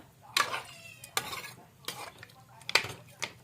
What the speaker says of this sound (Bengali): লাড়াচাড়া করে দেওয়া লাগবে